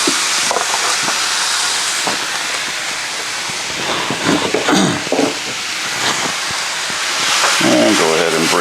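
Ground taco meat hits a hot skillet with a loud continuous sizzle and hiss, steady throughout with brief scraping bursts and some talking mixed in.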